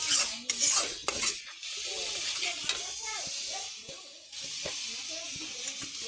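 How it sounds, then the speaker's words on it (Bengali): Cumin and coriander powder being stirred and lightly fried in a pan, a steady close sizzle and hiss under repeated scraping strokes of a spoon, with quiet, indistinct voice sounds mixed in. "আর আধা চামচ জিরার গুঁড়া দিয়ে আবার নাড়া দিয়ে মিশিয়ে নিচ্ছি, হালকা ভেজে নিচ্ছি।"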